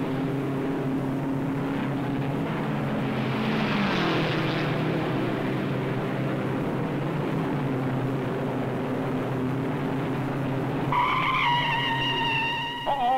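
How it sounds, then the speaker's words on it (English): A race car skids and spins out during the 1957 Indianapolis 500, a long tire screech over continuous engine roar, with a higher engine whine rising near the end. "Don Edmonds spins out"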